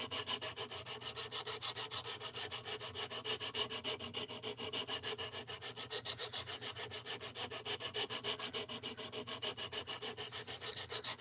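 Hand sanding with 220 grit sandpaper on a sharpening system, a quick, even back-and-forth rasping scrape of close strokes, repeated steadily throughout with no voices.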